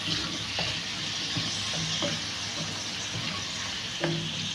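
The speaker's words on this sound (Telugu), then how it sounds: "లైట్గా పచ్చివాసన పోయే వరకు మనం ఫ్రై చేసేసి" Drumstick curry ingredients fry in a pan with a steady, close sizzle, while a spoon stirs and scrapes now and then through the bubbling oil.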